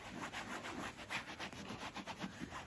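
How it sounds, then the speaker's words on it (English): Leather restorer being rubbed into a Gucci leather tote bag, a quiet, close, rhythmic scuffing as a cloth or hand strokes back and forth over the leather, steady throughout. "I'm just gently rubbing it, getting it in there,"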